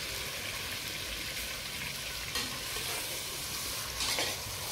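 Marinated chicken frying in a pan for Kolkata-style chicken pulao, a steady broadband sizzle with soft stirring, close and even, with no voices.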